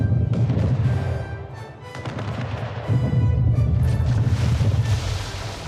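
Warship cannons fire in Anno 1800 during a naval battle: repeated heavy booms roll into one another, loud and dense, over a rumbling battle din.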